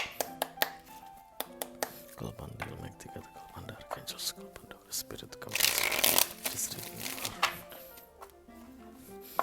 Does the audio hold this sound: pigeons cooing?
no